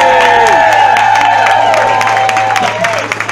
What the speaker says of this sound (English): Big clap for the boys